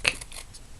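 Scissors make one quick snip through a piece of black cardstock, cutting it in two for a handmade Christmas card. The snip is close, short and crisp, followed by faint handling noise.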